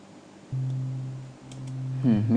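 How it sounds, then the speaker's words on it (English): A deep synthesized sub bass hums in a low sustained line, changing note once, with a brief higher blip near the end. "if you listen to the sub bass, it should sound like this."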